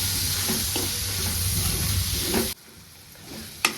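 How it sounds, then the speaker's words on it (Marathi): Tomatoes fry in oil in a home kitchen pan, giving a steady, close sizzle with a few stirring scrapes that stops abruptly partway through, leaving quiet room tone and a brief knock at the end. "टमाटर पण छान असं तेलामध्ये तळलं गेलेलं आहे"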